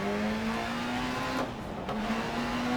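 A fast rally car in the racing game Dirt Rally drones along with a steady, loud engine note that rises slightly in pitch. Tires rasp underneath, and there is no talking.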